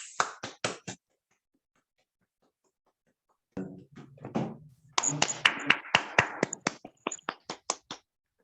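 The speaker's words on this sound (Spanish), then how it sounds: "yo creo que un gran aplauso para nuestro querido Nicolás" A small audience applauds a speaker in short sparse bursts of claps, breaking off into a long silence before a brief murmur of talk and a second round of scattered, uneven clapping.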